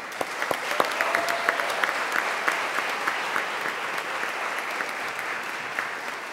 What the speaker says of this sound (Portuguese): peço a cada um, por favor, uma salva de palmas